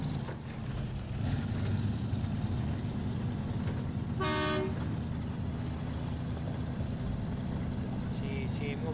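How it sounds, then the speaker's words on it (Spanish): A truck horn sounds once, briefly, over a steady low engine drone in the off-road driving game SnowRunner, with a faint second toot near the end and talk in the background. "Cuando doblo toco bocina."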